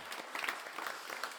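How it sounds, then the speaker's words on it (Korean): A church congregation at a Salvation Army Sunday service applauds together, a steady, soft wash of many clapping hands heard from a short distance, with no voices over it. "그동안 좀 애썼다고 우리 박수로 좀 이렇게 해줬다."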